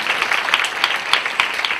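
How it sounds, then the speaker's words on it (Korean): A church congregation applauds together, a dense patter of many hands clapping at close range, brief and steady without a clear rise or fade. "우리 감사와 큰 영광의 박수 올려드리기를 원합니다"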